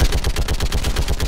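Rapid automatic gunfire in the video game Mass Effect 3, a fast, even stream of loud, close shots rattling without pause for over a second.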